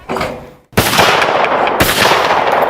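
Two loud, close shotgun blasts at clay targets in quick succession, the second following under a second after the first, each with a sharp crack and lingering outdoor echo.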